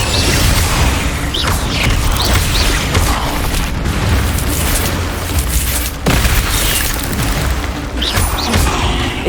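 Incendio fire spells cast in Hogwarts Legacy combat burst out as loud whooshing blasts amid a constant roar of booms and crashes, with sharp impacts recurring every few seconds.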